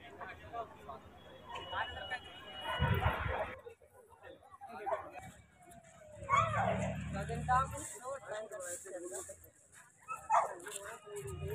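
Dogs bark and whimper at a dog show during an agricultural exhibition in Karad, with scattered yips and barks rising and falling amid a crowd, under near-constant talking.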